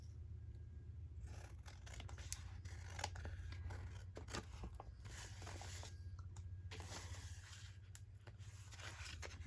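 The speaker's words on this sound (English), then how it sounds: "Now I'm going to trim off the edges here." Scissors trim the edges of a paper envelope notebook in a quick series of close, crisp snips and slices over a low steady hum, with no talking.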